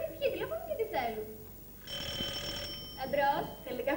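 A telephone ringing on stage during a school theatre play, an electronic ring of about a second sounding between lines of dialogue in a hall.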